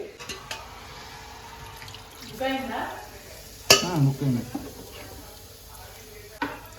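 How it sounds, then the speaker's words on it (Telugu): Water poured into chicken cooking with salt, chili and turmeric in a pan, a brief splashing rush followed by sizzling and a sharp clank, quiet and close, with soft kitchen noises around it. "అండ్ ఇప్పుడు కొన్ని వాటర్ యాడ్ చేద్దాం చికెన్కి."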